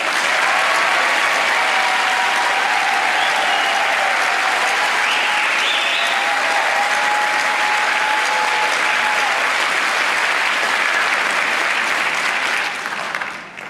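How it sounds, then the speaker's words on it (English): A standing audience at a community action assembly applauds a council member, a loud, continuous roar of many hands clapping that sustains for over thirteen seconds with some crowd voices underneath before tapering at the end. "let's give him a round of applause."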